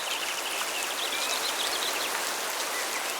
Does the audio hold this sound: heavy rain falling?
yes